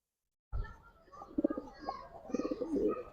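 A female pigeon coos softly and nearby in a few low, rolling calls, with faint background murmur beneath.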